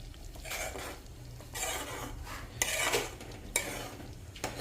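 Thick paneer butter masala gravy bubbling in a pan while a spoon stirs it in repeated scraping strokes, soft sizzling underneath and an occasional clink of utensil on metal, no voices.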